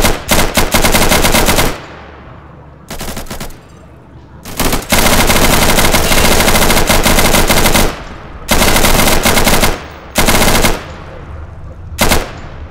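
Loud automatic gunfire in the video game Insurgency: long sustained bursts of rapid shots alternate with brief pauses and shorter volleys, the firing close and dominant throughout with no talking.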